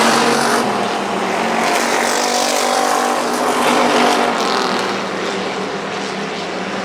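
Pure Stock race cars roar around South Texas Speedway during a heat race, a loud, steady wall of engine noise from several cars running together without a break.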